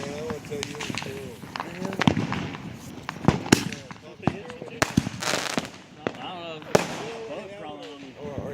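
A small firework going off, a series of sharp cracks and pops scattered through the clip, mixed with people talking and moving around nearby.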